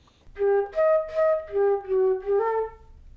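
A solo flute plays one measure of a song, six clean sustained notes in a slow, evenly spaced line, close and clear with no talking.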